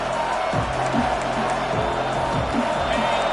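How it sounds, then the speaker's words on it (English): A home crowd roars at a college football game, Auburn against Oklahoma, as the defense tries to get a third-down stop; dense, steady stadium noise fills the whole stretch, with a commentator talking over it. "Here comes his home crowd as the defense tries to get off the field on third down."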